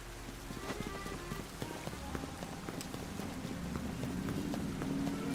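Rain patters steadily in the video game Pokémon Legends Z-A, a dense even hiss of drops with scattered sharper taps, swelling slightly louder toward the end.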